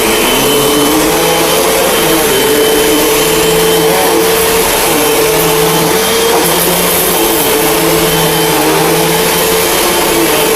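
A Hoover Whole House Elite dual-cyclonic bagless upright vacuum runs steadily on carpet, a loud close whine with a low motor drone that rises and falls slightly as it is pushed back and forth, with no talking.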